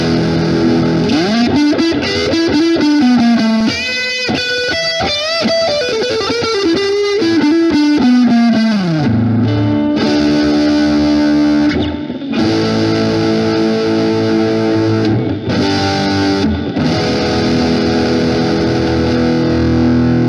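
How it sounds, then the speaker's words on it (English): Overdriven electric guitar played through a Blackstar HT1-R amp at full gain, full volume and reverb up, loud distorted bends and riffs ringing continuously, alone. "There we go, overdriven, full gain, full volume, reverb up, everything. That's it. That's as loud as it gets."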